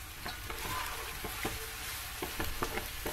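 Peppers frying in oil in a pan for menemen, a continuous close sizzle broken by repeated scraping stirs of a utensil.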